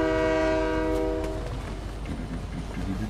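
A train in the Fortnite video game, a loud horn blast for over a second, followed by rumbling rail noise and faint clickety-clack running under it.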